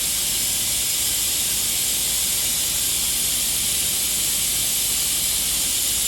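A pump draws engine oil out of a Jaguar F-Type R through an open valve, giving a steady, unbroken high hiss and rush that runs throughout at moderate loudness, with no talking.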